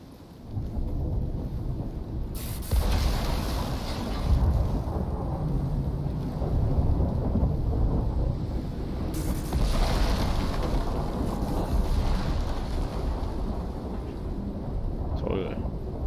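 A video-game thunderstorm with steady, loud rain and rumbling thunder, including a sharp crack of lightning that swells into a long roar, all continuous and close throughout.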